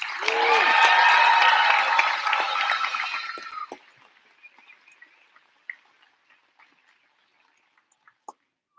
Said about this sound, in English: It's okay to clap for yourselves, parents.